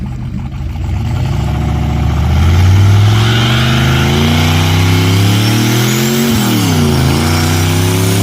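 Turbocharged Chevrolet Caprice engine with a GT45 turbo revving up close, rising to a loud sustained roar, then dipping briefly and climbing again.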